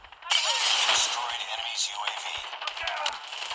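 AK-47 fire in a video game with 5.45 ammo sounds as a sharp burst of rapid gunfire that starts abruptly and then continues in quicker, lighter shots while a voice talks over it.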